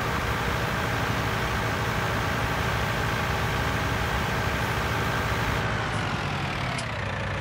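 A tractor engine in Farming Simulator 19 runs with a steady, dense idling drone that eases off slightly near the end, with no talking.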